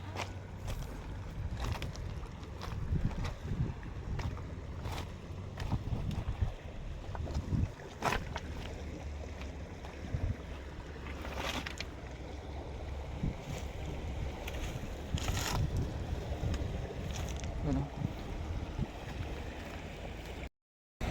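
A small boat crosses murky water, a steady low rumble with wind buffeting the microphone and occasional splashes and knocks throughout, ending abruptly.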